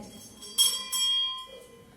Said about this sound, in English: The pig rang the bell